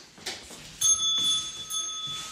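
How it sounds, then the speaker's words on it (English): A small bell rings sharply a couple of times at close range, its bright metallic tone lingering briefly in a quiet indoor space. "Locke, ring the bell."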